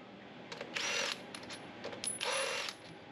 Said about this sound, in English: Zap these pinch bolts off.